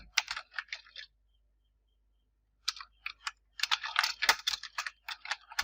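Typing on a computer keyboard: quick runs of close, crisp key clicks in short bursts, a pause of about a second and a half of silence, then denser rapid clatter.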